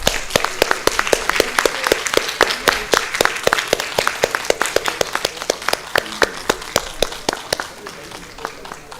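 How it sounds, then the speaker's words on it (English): An audience at a pulmonary and critical care medicine conference gives a round of applause, a sustained stretch of sharp, fairly regular hand claps from a modest crowd that gradually fades, with some talk mixed in. "A big round of applause, please."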